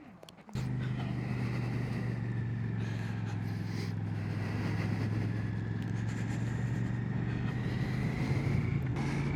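A Royal Enfield Classic 650 motorcycle engine starts up after a brief scrape, then runs with a steady, close throbbing hum and a light whine on top, loud and continuous, no talking.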